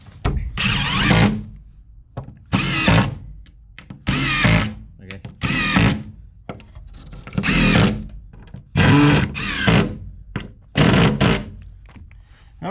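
A power drill bores holes into wood boards for a barn door build, in repeated loud whirring bursts of a second or so, separated by short pauses and clunks.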